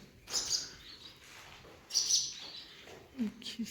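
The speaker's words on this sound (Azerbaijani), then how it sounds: "Kuşlar burada yaşayır indi." Swallows in an abandoned village church, a few bright chirping calls in short bursts with quiet gaps, moderately close and echoing in a still interior.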